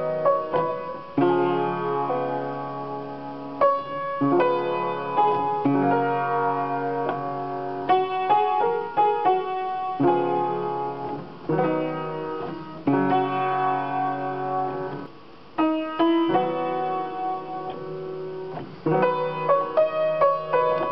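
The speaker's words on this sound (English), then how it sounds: "I'm going to play these chords all together." Piano chords played together and left ringing, a slow steady sequence of full sustained chords, each struck cleanly and overlapping its neighbour, with no talk.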